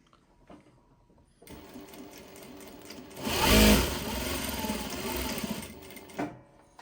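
Juki DDL 8700 industrial sewing machine stitching, a fast close mechanical whir that starts abruptly, swells loudest midway, runs steadily for several seconds, then stops.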